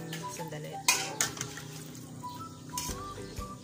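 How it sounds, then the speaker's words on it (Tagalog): A spoon scrapes and clinks against a pot while native chicken tinola is stirred, giving a few sharp knocks among quiet rattles and soft liquid sounds. "Haluin lang natin sandali."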